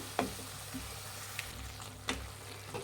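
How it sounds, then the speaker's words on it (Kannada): Ground green masala made with mint and green chilli fries in oil over a medium flame for a chicken gravy, giving a faint, steady sizzle broken by a few soft spoon scrapes and taps on the pan. "ಗ್ರೀನ್ ಮಸಾಲ ಅದನ್ನು ಹಾಕ್ತಾ ಇದ್ದೀನಿ ಇದಷ್ಟು ಫ್ರೈ ಮಾಡಿ ಮಸಾಲ ಒಂದು ಸ್ವಲ್ಪ ಎಣ್ಣೆ ಬಿಡೋವರೆಗೂ ಫ್ರೈ ಮಾಡಬೇಕಾಗತ್ತೆ"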